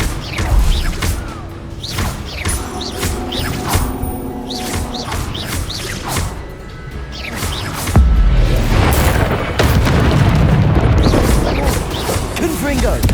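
Confringo fire-spell blasts in Hogwarts Legacy combat ring out as repeated booming explosions and crashes amid dense game noise, growing louder and heavier in the second half, with voices calling out over the action.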